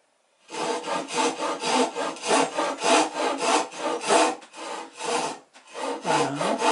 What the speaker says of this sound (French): tu scies des deux côtés, à gauche et à droite, et tu fais quelques traits de scie au milieu